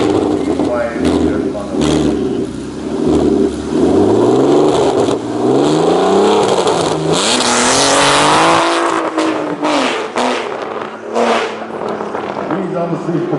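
A tube chassis kart powered by an R32 engine launches hard down the strip at Santa Pod on slick tyres, its loud engine note climbing through rising sweeps before cutting off, with some voices and crowd noise mixed in.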